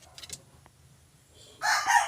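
Kelso gamefowl broodcock rooster crowing near the end, a loud bright call rising after a mostly quiet stretch with a few faint clucks and rustles at the start.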